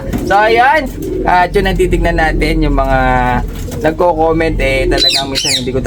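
Pigeons and doves coo and chirp steadily in a bird shop in Tarlac City, loud and close, while someone talks over them throughout.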